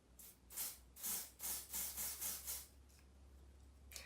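Short hissing bursts of an airbrush spraying makeup onto a brush, about seven quick puffs in an uneven rhythm, close by, then a quieter hiss trailing off.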